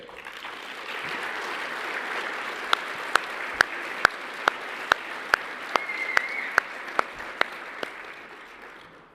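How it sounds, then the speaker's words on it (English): A dinner audience at an honors banquet applauds in a steady wash of clapping, with a few sharp, evenly spaced knocks standing out above it, fairly close and moderately loud. "How about a nice round of applause for Dr. Ted Sayer?"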